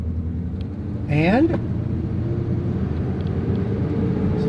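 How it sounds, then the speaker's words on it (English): An old Ford pickup truck engine on a road test gives a steady, deep rumbling drone with a brief louder surge, while someone speaks over it. "sounds like a big truck."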